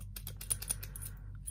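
Metal keys for an unbranded Chinese padlock handled at close range, a quiet run of small irregular clicks and jingling taps with a few sharper ticks.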